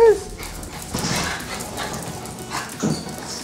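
Dog giving a high whimper followed by short yips and soft barks, close and brief, with a person speaking over the sounds.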